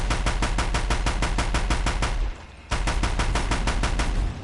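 Rapid automatic gunfire in the Horizon Zero Dawn video game, a loud, even stream of shots that breaks off briefly midway and then resumes, with no talking.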